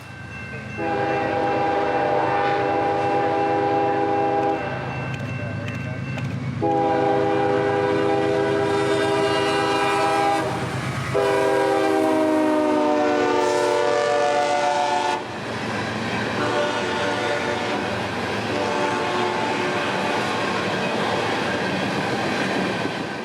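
A CSX freight train, B638, passes on the RF&P line, sounding a loud, sustained multi-tone horn in several long blasts over the rumble of rolling cars, close by and with no talking.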